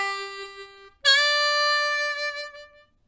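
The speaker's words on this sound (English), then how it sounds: "This is a turnaround lick that's pretty easy to play in both octaves." A harmonica plays a classic blues turnaround lick in the lower octave, starting on a 4-hole draw: a held note, then a brighter sustained note that fades out, solo and close.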